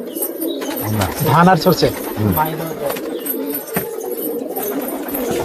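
Pet pigeons coo in low, rolling bursts close by, several calls repeating under a man's conversational speech, with faint wing flutters and background noise.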